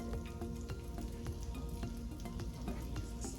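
White onion and ginger fry in sesame oil in a pan for egg roll in a bowl, giving a constant close crackling sizzle with frequent sharp pops and light stirring, no voices.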